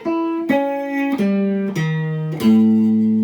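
A guitar finger drill moves back down across the strings in a step pattern: five clean plucked notes, each one lower than the last, ringing close up at an even pace with no voices.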